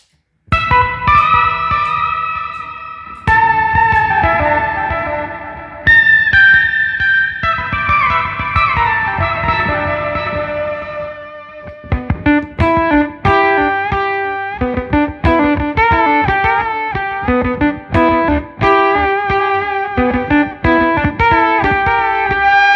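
Overdriven electric guitar with stacked octave drive and reverb giving a fuzzy octave-up edge, playing sustained chords then choppy, rhythmic note runs, loud and continuous with no talking.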